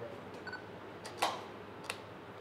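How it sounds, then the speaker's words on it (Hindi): A camera shutter clicks during a portrait shoot set to aperture 6.3 and ISO 100, a few faint, sharp ticks in a quiet room with no talking. "तो चलिए एक क्लिक करके देखते हैं"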